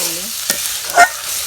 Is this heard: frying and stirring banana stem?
yes